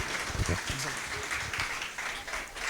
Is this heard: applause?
yes